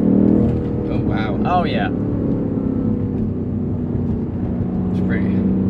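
A 2022 BMW M5 CS pulls hard in second gear with the chassis in sport mode, a loud steady engine drone filling the cabin while occupants exclaim over it.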